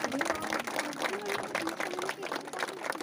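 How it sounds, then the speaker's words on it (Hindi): An audience at a school celebration in Jharkhand applauds a high school topper with steady, dense clapping at moderate loudness throughout. "कृपया तालियों के साथ इनका उत्साहवर्धन करें"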